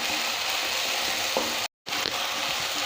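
Ground tomato sizzling and frying in a pan for a spicy Maggi, a steady close hiss with faint stirring scrapes, briefly cut to silence midway.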